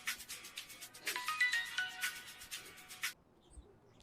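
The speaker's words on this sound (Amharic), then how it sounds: "ስልክ እየጠራ ነው።" A mobile phone ringtone plays in a scene from an Amharic film: a bright, repeating electronic melody that rings steadily and fairly close for about three seconds, then cuts off abruptly into quiet.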